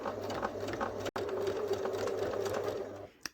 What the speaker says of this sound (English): popping the foot back down and continuing to sew.